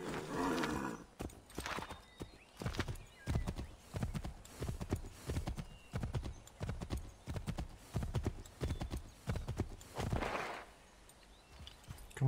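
Horse hooves clip-clopping in the video game Assassin's Creed III, a steady walking rhythm of sharp distinct hoof strikes repeating throughout, fairly close, with a brief whinny-like swell near the end.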